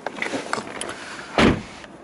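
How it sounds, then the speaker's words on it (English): Power windows on an Audi A3 2.0 TDI S Line convertible, a short motor whir and thump near the end after faint clicks, heard up close inside the car. "this button just here which will lower all the windows"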